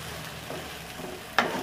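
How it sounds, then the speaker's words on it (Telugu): Crumbled idli is stirred into a hot pan for dry upma, giving a low sizzle with faint scraping and one sharp clink of the spoon near the end. "ఈ ఇడ్లీని ఇందులో వేసేద్దాం। వేసేసి అంతా కలిసే విధంగా"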